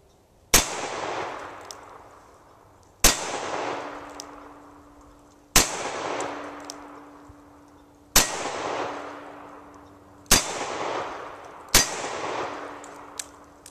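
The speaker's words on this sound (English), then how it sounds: "Last two shots are in double action." Six loud, sharp revolver shots from a Taurus Model 82 firing jacketed hollow points, the last ones in double action, each a cracking blast with a ringing decay, spaced about two to three seconds apart outdoors.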